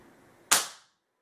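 One sharp, close crack from a Crosman 160 bolt-action pellet gun, modified and being tested, ends in a short decay with no voices.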